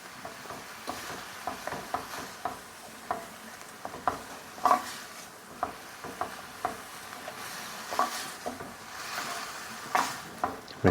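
A spoon stirs tomato puree into rice and beans cooking in a pot, scraping and clacking in an irregular rhythm over a soft sizzle, close and fairly quiet.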